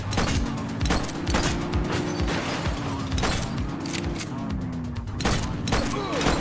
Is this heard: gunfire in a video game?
yes